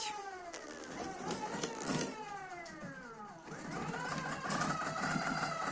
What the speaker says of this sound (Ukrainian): Чути по звуку, що мотор не працює стабільно